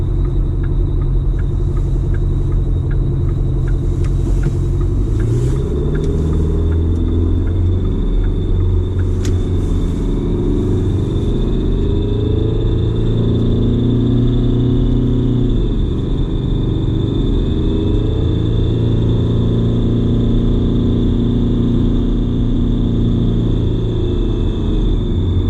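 A Detroit 4-53TIB turbocharged diesel engine idles loudly and steadily after a cold start, a constant deep rumble with a faint high whine over it, close up with no voices.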